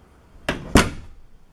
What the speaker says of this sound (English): Closing the door.